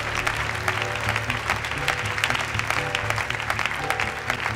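A church congregation claps together in sustained, dense applause that fills the room at a steady, fairly loud level, with a faint voice underneath.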